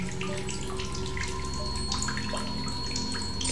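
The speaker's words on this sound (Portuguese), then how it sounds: "Aqui tem uma fonte de água." Fresh water flows steadily from a spring in the survival video game The Solus Project, a continuous close splashing stream with faint drips over a low ambient hum.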